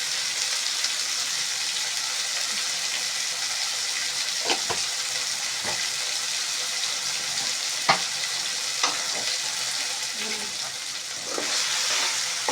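A drumstick and tomato curry sizzles and fries in a pan as it is stirred, a steady hiss broken by scattered scraping clicks of the spoon against the pan.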